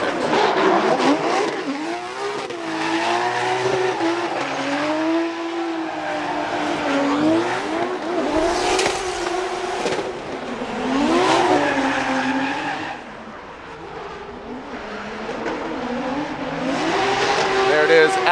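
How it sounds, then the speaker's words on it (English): A BMW E36 drift car on a Formula Drift run at Long Beach screams with rising and falling engine revs and sustained tire squeal, loud and continuous, with commentators talking over it. "Let's listen to Adam LZ with this bye run in this beautiful BMW E36."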